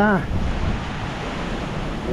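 A continuous, dense rush of strong post-typhoon wind blows over farmland, close and even throughout, with a brief tonal whine at the start.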